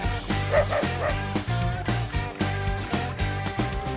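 Small dogs yipping and barking repeatedly in short bursts, close by, with a whimpering edge between barks.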